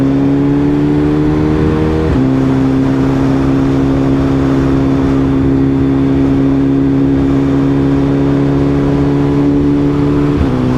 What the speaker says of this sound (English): I did a second gear pull, and just in second gear it was wheeling like I was in first.